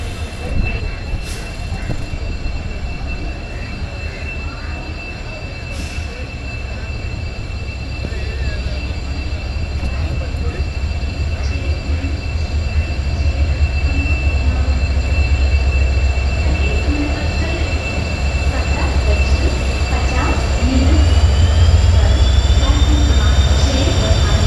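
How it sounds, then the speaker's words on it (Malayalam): The Kannur–Ernakulam Intercity Express rolls into platform 2 with a continuous heavy rumble and thin, sustained wheel squeal that bends in pitch near the end, growing louder as it draws close. "കണ്ണൂരിൽ നിന്നും എറണാകുളം വരെ പോകുന്ന കണ്ണൂർ എറണാകുളം ഇന്റർസിറ്റി എക്സ്പ്രസ്"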